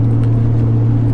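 Engine of a manual-transmission Nissan R33 Skyline GT-R running steadily inside the cabin, a loud low droning hum with constant tone and no pauses.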